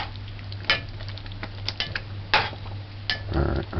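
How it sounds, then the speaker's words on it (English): A spoon scrapes and knocks against a pot of spaghetti meatball sauce being stirred, giving a few sharp clinks spaced irregularly over a steady background hum, ending in a softer wet stirring rustle. "Just stir this in."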